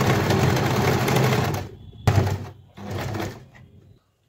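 An electric sewing machine stitches a crop top in a long whirring run, then a short burst and a second run before stopping, heard close and loud with no talking.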